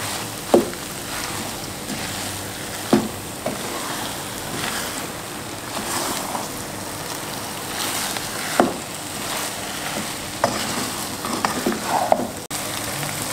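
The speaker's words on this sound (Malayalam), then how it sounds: "അവസാനം ഫ്ലേവറിനായിട്ട് കുറച്ച് കറിവേപ്പിലയുടെ ഇട്ട് കൊടുത്ത് ലാസ്റ്റായി ഒന്ന് ഇളക്കാം." Chicken thoran with curry leaves is stirred in a pan with coconut oil, giving a soft, continuous sizzle close by, punctuated every few seconds by a light scrape or knock of the spoon against the pan.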